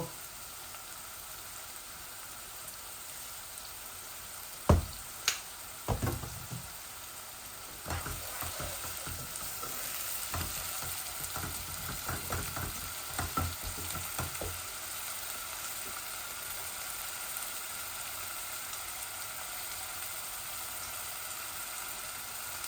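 Chicken frying in a pan with onion, ginger and garlic for a Bangladeshi chicken and potato bhuna, a steady sizzle throughout with sharp clinks and scrapes of stirring near the middle.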